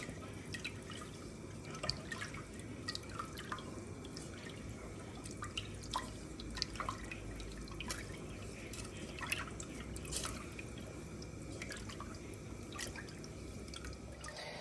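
Laksa broth with lime juice simmering in a pot, a faint continuous patter of small bubbles and drips, quiet and close, with no talk.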